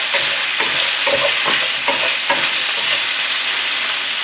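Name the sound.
vegetables stir-frying in a hot pan for beef stir fry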